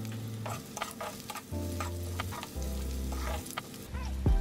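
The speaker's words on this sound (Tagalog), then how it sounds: "Mag-gisa na tayo ngayon ng sibuyas." Onions sautéing in a pan for a camel masala dish, a soft sizzle under repeated stirring and scraping clatter, with a low rumbling hum that starts and stops, alone and fairly quiet.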